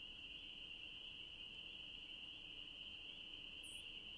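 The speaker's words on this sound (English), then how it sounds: "Oh no, I think that's crickets." Crickets chirp in a steady, unbroken high trill within the Nancy Drew: Ghost Dogs of Moon Lake video game, faint and continuous against a quiet night ambience, with no talk.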